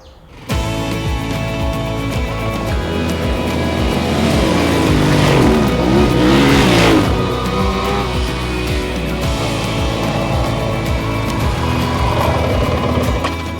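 Motocross motorcycles ride past close by, their engines building to a loud, dense roar with rapid repeating pulses before easing slightly, with no talk heard.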